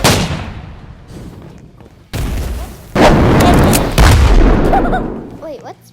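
Blitz Shot gun attack fired in a Chainsaw Man video game, heard as loud booming gunfire bursts and impacts with game effects, while a player talks over the action.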